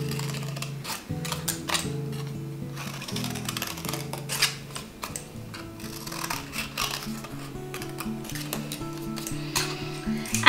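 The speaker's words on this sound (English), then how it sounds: "So we're just going to cut these out using the scissors." Scissors cut shapes out of card, a series of crisp snipping and crunching clicks in irregular bursts, close and fairly clear, with soft handling sounds between cuts.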